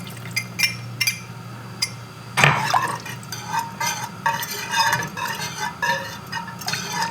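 A whisk clatters and scrapes rhythmically against the sides of a pot as a flour mixture is beaten into potato soup, giving quick metallic ticks and clinks with one sharper knock, close and fairly quiet.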